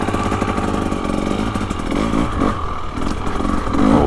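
A 2025 KTM 300XCW Champion Edition two-stroke dirt bike with an off-road tune rides off-road, its engine buzzing loud and steady up close with rising revs and clattering chassis and terrain noise throughout.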